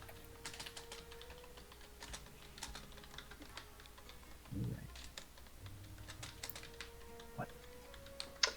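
Fingers tap on a computer keyboard to write a letter, with irregular light clicks spread throughout at moderate distance while people talk quietly underneath.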